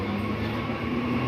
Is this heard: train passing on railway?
yes